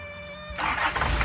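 A motor catches and starts abruptly, bursting into a loud, rough running rumble nearby after a brief quieter moment.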